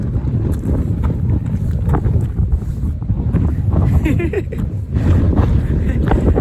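Heavy wind buffeting the microphone in a constant low rumble outdoors in the desert ghost town of Rhyolite, Nevada, with a person talking faintly underneath.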